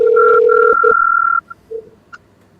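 A phone's ringback tone while calling the Black and White Cabs taxi company: a steady, loud two-pitch tone lasting over a second, then a few faint short blips in near silence.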